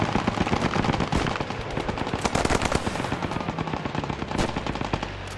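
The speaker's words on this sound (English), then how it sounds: "there's an MG shooting to kill" Machine gun fire in the World War II shooter Post Scriptum rattles continuously in rapid, dense bursts, with heavy nearby shots over a busy battlefield.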